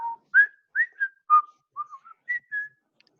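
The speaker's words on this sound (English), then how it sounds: "He laughs and the thing whistles more." A series of short, clear whistled notes, about eight to ten chirps in an uneven, playful rhythm with brief pauses between them, close and alone in a quiet room.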